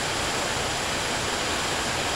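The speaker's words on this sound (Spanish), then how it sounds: "Aquí ya se metió el agua, miren." Water flowing into a flooded home produces a steady, loud, broadband rushing hiss that stays constant and unbroken throughout, with no voices heard.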